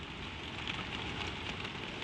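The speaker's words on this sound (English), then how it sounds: "the rain keeps the tower, wrapping the whole of it in one long, soft sound" Soft rain falling steadily on a windmill tower, an even hissing patter with no breaks, moderately faint and alone without voices.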